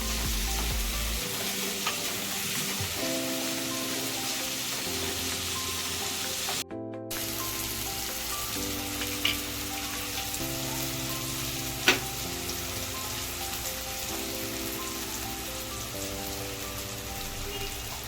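Onion and tomato fry into a paste in a pan for a cauliflower sabzi, with a steady, continuous sizzle and a few light stirring taps throughout, and no talking.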